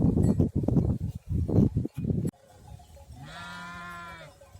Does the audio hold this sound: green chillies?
no